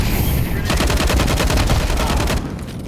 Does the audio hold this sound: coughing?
no